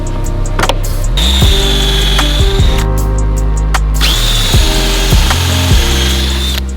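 Power tools at work assembling a wooden bookcase face frame with a brad nailer, a loud close whirring run with repeated pitch sweeps, short bursts and clicks, and no talk.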